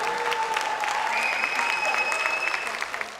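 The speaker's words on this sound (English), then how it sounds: "And a bigger round of applause for most of the people who are employed by Jeff." Audience applause at a fireside chat with Jeff Bezos, steady dense clapping filling the room throughout, with faint crowd noise and a few tonal whistles or feedback tones running beneath.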